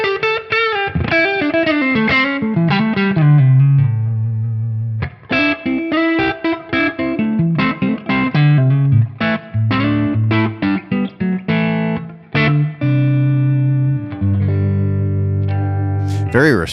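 Electric guitar on the neck pickup played through a Tonex amp modeler with distortion, bursts of chords and single notes with ringing sustains and short pauses, loud and close, no talking.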